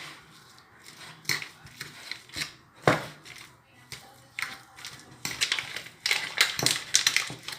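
Mashed potato mixture with butter being stirred and worked in a bowl: irregular close scraping and squelching strokes, getting busier and louder toward the end.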